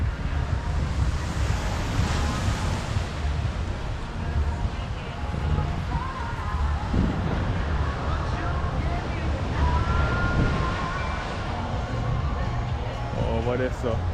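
Ocean surf rolls steadily onto Fort Lauderdale beach in Florida, a continuous wash of waves mixed with gusty wind buffeting the microphone, with voices and beach activity faintly underneath.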